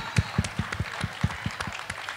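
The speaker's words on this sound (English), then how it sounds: "Give him a big round of applause" Applause from an event audience at a 2012 Q&A, with a steady patter of hand claps, fairly soft and even in pace, carrying on alone for a couple of seconds without talk.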